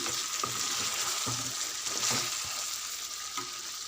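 Masala paste is stirred into whole stuffed eggplants frying in a pan, a constant sizzle broken by periodic scrapes and knocks of a spoon against the pan.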